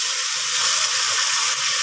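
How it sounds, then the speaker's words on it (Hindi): Water poured into a pan of hot oil left from frying eggs gives a steady, close hiss and sizzle of steam that holds evenly throughout. "थोड़ा सा पानी डालती हूँ अंदर"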